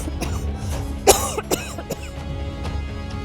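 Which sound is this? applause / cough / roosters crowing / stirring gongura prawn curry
cough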